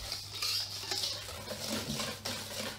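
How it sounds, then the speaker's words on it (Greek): A wire whisk beats white sugar with eggs and melted chocolate for brownies, giving rapid scraping and clinking strokes against the bowl in an uneven rhythm, close and clear, with no talk. "με ένα σύρμα ανακατεύω τη ζάχαρη"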